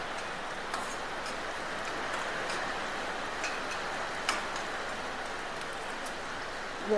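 Heavy monsoon rain falls in a steady hiss, with scattered drip-like ticks, moderately distant, at a farm kitchen in Kerala.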